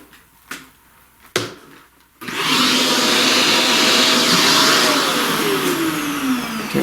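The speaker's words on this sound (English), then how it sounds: "Let's vacuum that." After a few quiet knocks and taps, a vacuum cleaner switches on abruptly to clean up pastel dust, then runs as a loud, steady whine and roar close by, its pitch drifting slightly.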